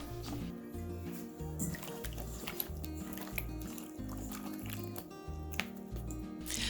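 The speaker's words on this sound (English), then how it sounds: "with clean hands, mix your squash slices around in the buttermilk" Wet squishing and sloshing as bare hands toss sliced squash in buttermilk, a steady run of close liquid squelches over background music.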